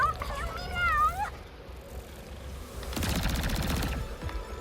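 Electro gun fire in the Ratchet & Clank Rift Apart video game comes as a burst of rapid crackling electric shots, following a warbling cat-like character voice.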